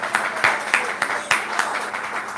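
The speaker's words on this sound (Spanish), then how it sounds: "vamos a darle un aplauso" An audience claps for a guest during a Shabbat service, a moderate, steady patter with a few distinct sharper claps, and some voice-like sound mixed in.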